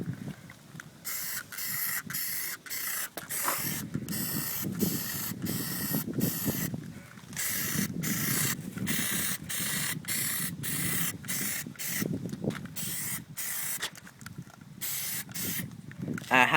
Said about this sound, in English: You always want to make sure you do practice sprays before you actually do it.